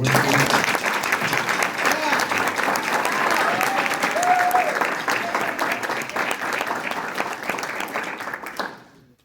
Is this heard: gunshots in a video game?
no